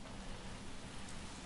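Steady rain in the video game LA Noire, a dense even hiss of drops on surfaces with no breaks, soft and continuous throughout.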